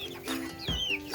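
Cornish Rock chickens cluck close by, a few quick squawking clucks and rising chirps over a short span, with no talk.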